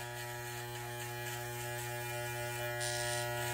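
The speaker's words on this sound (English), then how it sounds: "I'm just going to go straight in with my T outliner, and I'm going to create what's called a bald line." Steady electric buzz of a T-outliner hair trimmer shaving a bald line along the edge of a beard, close and continuous with a strong mains-like hum, no talking.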